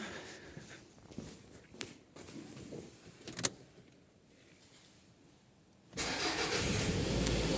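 Toyota RAV4 engine cranks and catches, settling into a loud, steady run close by after a quieter stretch of faint shuffling and clicks.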